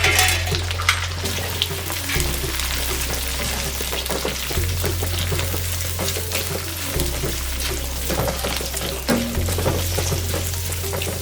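Cubed onion frying in a pan for sambar rice gives a steady close sizzle with occasional scraping and stirring, heard alone with no talk over a low humming drone.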